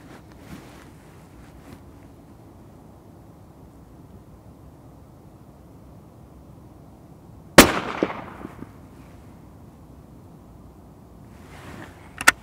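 A single sharp, loud shot from a Sako S20 sporting rifle fired outdoors on an icy day, with a booming echo trailing away; a second crack comes right at the end.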